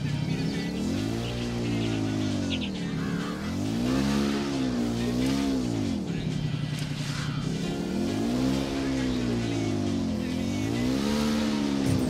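A motorbike engine in Ghost Recon Wildlands drones loud and steady, pitch rising and falling in repeated revving waves as the bike accelerates and eases off, with no talk over it.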